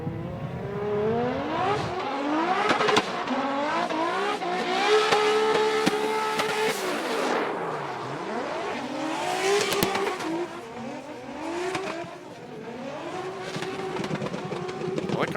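A Formula Drift competition run at Indianapolis, with a turbocharged drift car revving hard through repeated rising and falling engine sweeps, tire squeal mixed in, loud and continuous throughout.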